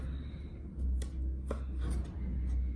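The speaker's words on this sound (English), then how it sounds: "after this we are going to start by cutting the onion, fine cut." Knife finely chopping an onion on a board for a stuffed coloured peppers dish, giving a few sharp, close cuts over a steady low background hum.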